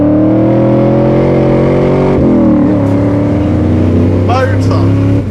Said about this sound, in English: Cannot beat a V8.